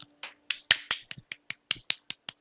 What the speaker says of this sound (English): that was clapping